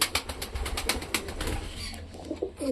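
A pigeon in a loft gives soft repeated coos, with quick wing flaps and rustling nearby, the sounds short and close amid faint background noise.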